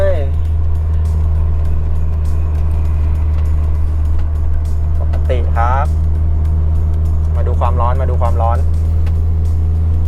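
A BMW 318iA E36 with the M43 engine climbing a steep, winding mountain road, its engine giving a steady, loud, low drone throughout, with people talking over it.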